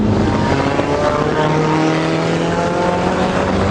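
A turbocharged Nissan 240SX engine drones steadily and loudly from inside the car as it slows and downshifts, with a dense, unbroken mechanical roar throughout.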